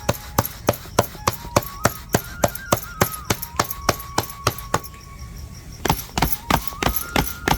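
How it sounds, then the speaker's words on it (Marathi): Flatbread dough is patted out by hand on a surface, giving a fast, even series of sharp close slaps with a brief pause before the rhythm resumes. "आता ह्याला बघा असं पीठ घ्यायचं खाली ह्या असं थापायचं"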